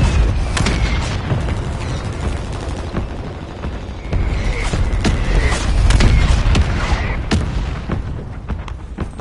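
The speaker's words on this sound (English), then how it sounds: "Mortar strike inbound now" Mortar strike in a Call of Duty video game: a rapid series of loud booming explosions and gunfire cracks, densely clustered and rumbling, with barely any voice over the barrage.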